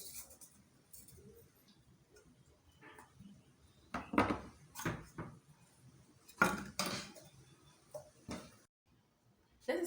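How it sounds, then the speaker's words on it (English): Flour dusting a baking pan at home for a cake brings soft taps and several louder metallic knocks and clatters of the pan, scattered in bursts with quiet gaps between, no talk. "We are applying a little flour in our baking pan."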